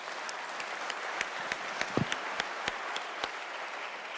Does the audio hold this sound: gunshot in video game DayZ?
no